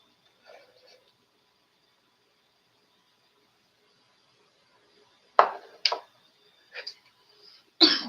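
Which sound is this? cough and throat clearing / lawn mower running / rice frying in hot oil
cough and throat clearing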